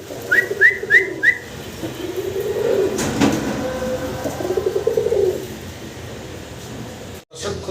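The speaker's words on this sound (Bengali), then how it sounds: "এক জোড়া পলিশ আউলের বেবি একদম চিচি করে ডাকতেছে" Baby Polish owl pigeons make soft cheeping calls, with a quick run of high peeps at the start and low cooing murmurs through the middle.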